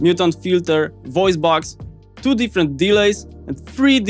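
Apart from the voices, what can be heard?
No everyday noises stand out.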